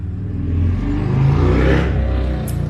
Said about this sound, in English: You just heard that incredibly loud motorcycle.